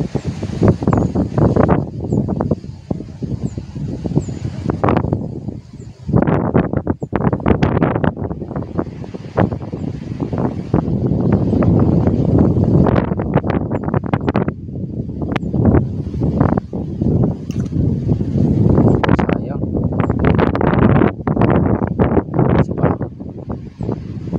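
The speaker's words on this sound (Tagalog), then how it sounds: "grabe ang hangin" Strong wind blusters against the microphone outdoors at a fishing spot, in loud rough gusts that rise and fall almost without pause.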